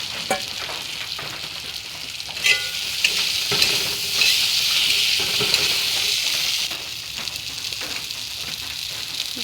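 Fish sizzles and crackles loudly as it fries in a pan of hot oil, with a steady dense hiss broken by occasional sharper pops and spatters throughout.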